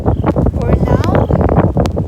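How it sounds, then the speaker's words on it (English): A snowstorm wind blows hard and steadily, buffeting the microphone with loud, continuous gusty rumble for the whole stretch. "the wind is really blowing"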